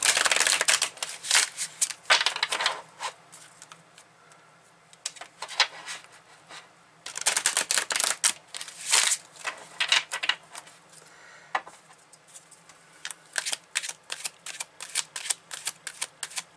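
Oracle cards are shuffled in bursts, crisp riffling and flicking sounds that start and stop repeatedly, close and fairly quiet with short pauses between rounds.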